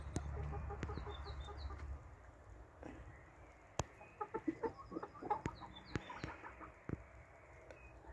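Backyard chickens cluck softly and intermittently close by, in short scattered calls over a quiet outdoor background with a few sharp clicks and taps.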